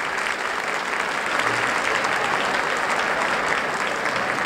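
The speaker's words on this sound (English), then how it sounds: "There's continuing scattered applause in the audience" Scattered applause from a concert hall audience after an orchestral broadcast performance of Mussorgsky's Pictures at an Exhibition, a steady even wash of many hands clapping that holds at one level throughout.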